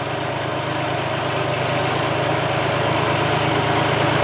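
A John Deere tractor engine runs steadily nearby, a loud continuous low rumble with a throbbing drone and no breaks.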